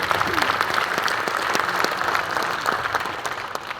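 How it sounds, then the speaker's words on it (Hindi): Loud, dense applause from a seated crowd at an RCM business gathering, steady and continuous clapping throughout the short stretch with no pauses. "एक बार जोरदार तालियां हो जाए"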